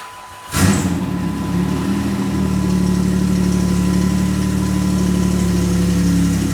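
A 2008–2016 Chrysler Town & Country minivan idles close by after a brief starting burst, then holds a steady, even engine hum without any revving.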